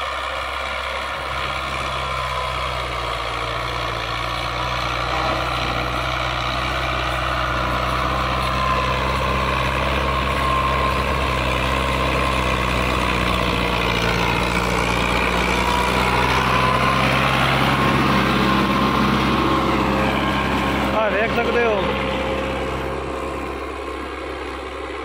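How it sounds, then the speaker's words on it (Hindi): A New Holland Dabang 85 tractor works a field pulling an 18-disc harrow, its diesel engine droning loud and steady throughout with a constant low hum and rattling clatter from the discs, no voices over it. "जबरदस्त परफॉर्मेंस है ट्रैक्टर की"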